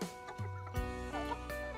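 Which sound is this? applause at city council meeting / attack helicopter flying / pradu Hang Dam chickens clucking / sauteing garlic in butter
pradu Hang Dam chickens clucking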